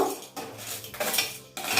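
Grated coconut and spices dry-roasting in a pan for a capsicum masala curry, with a metal spoon clinking and scraping against the pan in close, uneven bursts and no talking.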